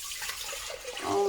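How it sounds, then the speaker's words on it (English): Chicken stock pours from a container back into a stock pot in a kitchen, a short, close splashing and trickling of liquid that swells louder toward the end. "I'm actually just going to tip it back into the stock pot."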